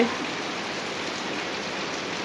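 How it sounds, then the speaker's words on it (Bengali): Steady rain pours down in a dense, even hiss that holds at a constant level from start to finish, with no voices over it. "অনেক সুন্দর বৃষ্টি হইতেছে"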